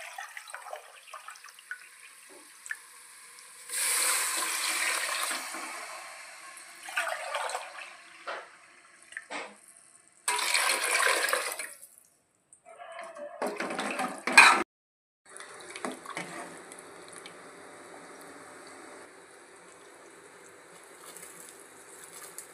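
Water is poured onto rice for chicken pulao in a pot, coming in several separate splashing bursts of a few seconds each with quiet gaps between them.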